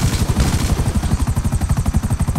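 A helicopter flying in GTA 5, its rotor pulsing in a fast, even, loud beat that stays close and constant throughout.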